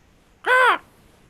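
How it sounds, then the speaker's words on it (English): A single crow caw used as a sound effect, one short, harsh, close call standing alone against near silence. "You all hear a crow or a raven or whatever."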